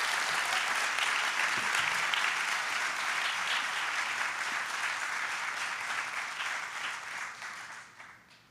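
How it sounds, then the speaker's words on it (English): Steady, sustained applause from a large audience at a graduation ceremony for an academy class, dense clapping holding level for several seconds before tapering off at the end. "Would you please give the TOs just an amazing round of applause"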